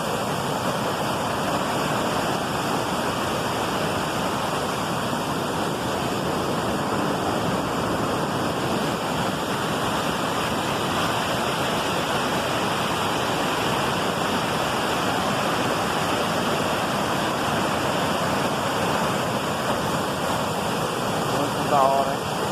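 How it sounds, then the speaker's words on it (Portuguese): A waterfall crashes onto rocks in a natural setting, a loud, continuous broadband roar that stays steady and close throughout with no pauses. "Olha, queda de água muito louca"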